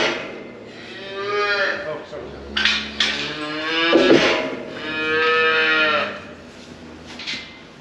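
A cow that lost her calf moos loudly several times in long, drawn-out calls with a harmonic tone, close by, with faint clattering in the background.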